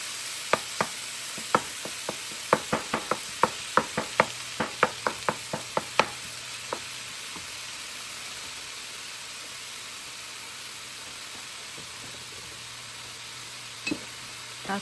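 Chicken for lumpiang Shanghai filling fries with a steady, moderate sizzling hiss, while a utensil taps and scrapes the pan in quick irregular clicks for several seconds before settling into plain frying.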